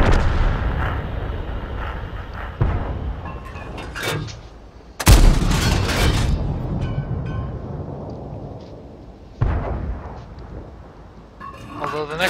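Tank cannon fire in a World War II tank video game around an M4, heavy booming shots with long rumbling tails, several blasts over continuous engine noise, with someone talking throughout.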